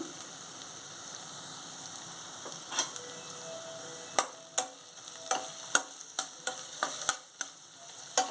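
Curry leaves dropped into hot oil with ginger garlic paste for a brinjal curry, crackling in sharp irregular pops and spits over a low steady sizzle, growing busier as frying goes on.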